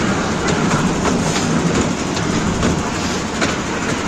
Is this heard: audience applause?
no